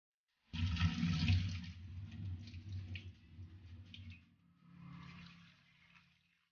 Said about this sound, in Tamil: இப்ப நம்ம இதை தண்ணியில 4 டைம்ஸ் அலசிக்கலாம்.